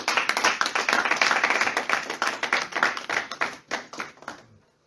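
A church congregation breaks into applause, dense clapping that swells, holds steady for several seconds, then thins to a few scattered claps before fading out.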